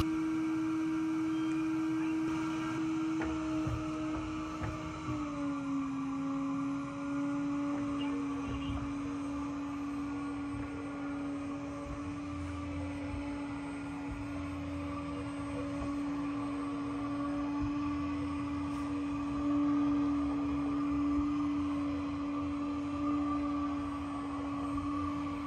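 A HOBOT R3 robot window cleaner runs on glass with strong vacuum suction, giving a steady loud motor whine and hum throughout; the pitch drops slightly early on and then holds even, with no talk.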